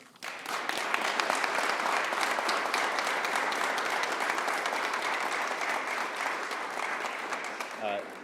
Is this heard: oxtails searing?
no